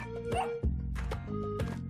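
Short yapping dog barks over a steady synthetic game soundtrack with humming tones, a couple of quick bursts close together.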